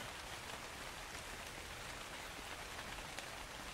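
Steady rain hisses in the video game ARK: Survival Evolved, a dense, even wash of falling drops with no voices over it.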